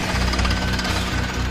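A drill cores through extremely hard bedrock at the Grand Canyon Skywalk site, giving a loud, continuous rapid hammering rattle with dense broadband grinding noise and no pauses.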